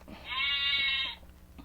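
A sheep bleats once in an iPad farm animal game for children, a single sustained, clear call lasting about a second, alone with no talk.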